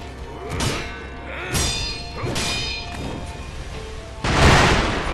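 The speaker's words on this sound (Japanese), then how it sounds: "去り際に爆竹巻くか" Firecrackers scattered by an enemy in the Sekiro video game, giving a run of sharp pops and thuds spread across the moment, ending in a louder burst.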